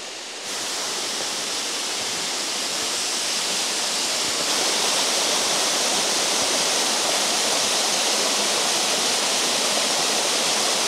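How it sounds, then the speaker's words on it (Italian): A huge, very tall waterfall roars as a dense, unbroken wash of noise, loud and close, with no voices over it. "E finalmente eccoci arrivati alle cascate, che sono enormi, sono altissime."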